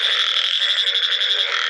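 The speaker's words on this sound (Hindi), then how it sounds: "तुम देख रहे बहुत ही आवाज़ा आ रही हैं मेंढक दी।" A dense chorus of many frogs croaks in a village during heavy rain, forming a loud, continuous pulsing trill with no pauses and no voices.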